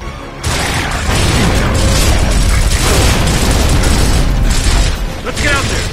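A grenade blast in the video game Gears of War from Gears of War 1, a dense, loud rumbling burst sustained for several seconds after a sudden onset, with crackling debris.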